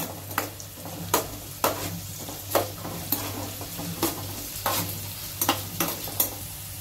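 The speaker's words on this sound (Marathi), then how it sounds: "कांदा, कांद्याला चांगलं गोल्डन ब्राउन होऊन देऊया आपण।" Chopped onion sizzles in hot oil until golden brown, for a cashew spinach masala, with a steady frying hiss broken by regular sharp spatula scrapes and stirs roughly every second, no voices.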